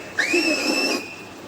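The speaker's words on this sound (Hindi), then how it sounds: "वैज्ञानिक जो है वो आज इस पल पर सीटी बजा रहे हैं" A loud whistle rises sharply and holds a steady high tone for about a second, sounded in celebration in a crowded newsroom as Chandrayaan-3 succeeds, with faint crowd noise beneath it.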